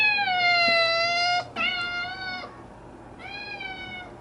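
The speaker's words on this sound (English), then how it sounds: "Let me see the ugly meow." A cat gives two long, drawn-out meows close by, followed after a short pause by a third, quieter one.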